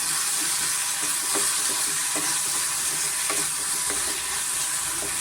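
Tender ridge gourd frying in oil makes a dense, close, steady sizzle throughout, with soft rhythmic stirring knocks roughly every second.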